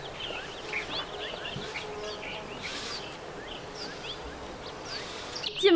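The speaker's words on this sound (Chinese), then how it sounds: "在门口就能听到里边吱吱喳喳的鸟叫声。" Birds chirp and tweet in a bird park aviary in Cape Town, with many brief, scattered calls over a faint, steady outdoor background.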